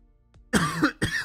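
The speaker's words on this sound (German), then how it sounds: "Husten." A single person gives a loud, close cough in two sharp bursts, heard alone without any talk.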